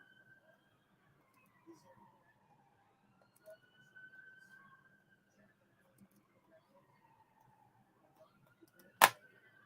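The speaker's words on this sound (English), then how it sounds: "that's a lot of sirens." Several sirens wail faintly in the distance, with slow rising and falling tones that overlap under quiet room sound, ending in one sharp close click.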